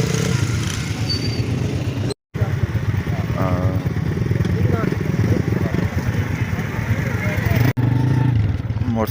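A motorcycle ridden through a village on a cold night, its engine droning loud and close throughout with brief dropouts, while people talk over it.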